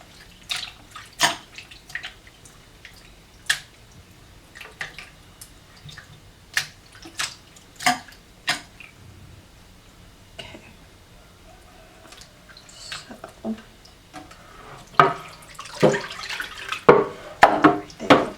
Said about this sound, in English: I don't think I'll have to rinse this one as many times. I'm going to do one more just to be safe.